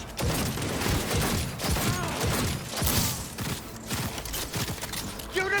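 Video game combat brings dense, uneven gunfire, with rapid clattering shots and thuds crowding together over several seconds, loud and close.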